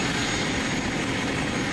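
An MTT Y2K motorcycle powered by a gas turbine engine roars with a loud, steady jet-like whine and rush of air, close and continuous without any talk.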